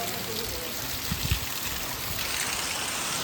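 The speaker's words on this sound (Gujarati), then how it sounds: "આ બધેમાંથી નકરું પાણી જ આવે છે" Rainwater runs and trickles steadily after heavy rain, a soft continuous flow with faint splashes and low rustling throughout.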